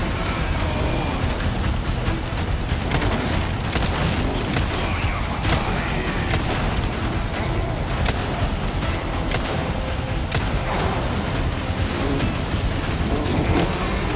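Gunfire and booming blasts in the video game Resident Evil 4 Remake, a dense run of sharp shots and impacts over a loud, constant rumble of game noise.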